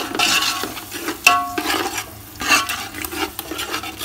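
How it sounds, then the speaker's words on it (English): Chicken biryani masala with curd fries in a pan while being stirred, giving a soft continuous sizzle broken by scraping strokes and a brief clink of the utensil against the pot. "And again, fry this nicely for another 3 minutes."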